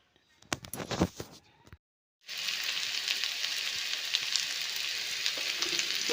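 Food frying in a pan, a steady, close hiss and crackle of sizzling oil that starts after a few brief clatters and a moment of silence.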